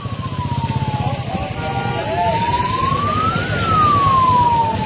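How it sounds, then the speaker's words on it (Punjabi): A 108 ambulance's wailing siren sweeps slowly up and down in pitch close by, over a rumbling engine and crowd noise at a farmers' union gathering. "ਉਹ ਦੇਖੋ 108 ਨੰਬਰ ਐਂਬੂਲੈਂਸ"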